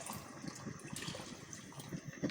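Tamarind water poured from a glass into a pot of simmering chana dal with meat, a soft steady liquid gush with faint splashing, quiet and close, no talking.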